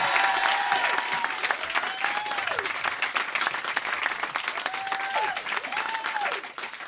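Lively audience applause for Dedo at Le Golden Show fills the room, a dense, steady clapping that runs almost the whole time, with a few whistle-like swoops rising above it before it tails off at the end.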